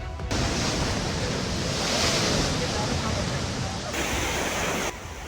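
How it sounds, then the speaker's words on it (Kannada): Huge sea waves crash onto the Karnataka coast during heavy monsoon rain, a loud continuous roar of breaking surf with strong wind, steady and close throughout. "ಮರಗಿಡಗಳನ್ನ ಧರೆಗುರುಳಿಸ್ತಿರೋ ಕಡಲಿನ ರಕ್ಕಸ ಅಲೆಗಳು"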